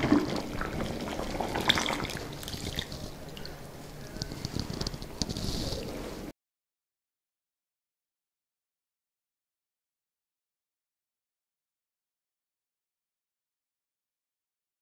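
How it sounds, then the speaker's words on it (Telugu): Milk pours into a pot of boiling moong dal, a short liquid splash and bubbling up close for about six seconds before everything falls silent. "ఇందులో పాలు వేసుకుందాం."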